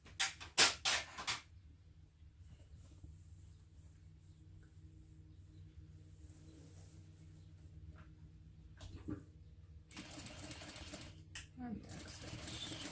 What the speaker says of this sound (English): now we're just going to sew directly over that box.